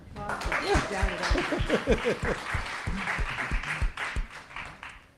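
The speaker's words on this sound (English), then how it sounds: "Yes, applause, please" Scattered applause rises from the audience at a Busboys and Poets book presentation, mixed with voices and light laughter that sit prominently over the clapping throughout.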